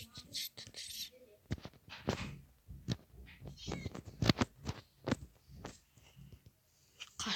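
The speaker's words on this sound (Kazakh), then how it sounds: "Мысықтар толып отыр ғой." Cats meowing in Minecraft, short mewing calls scattered through the clip among game clicks and hits, with a voice talking over them.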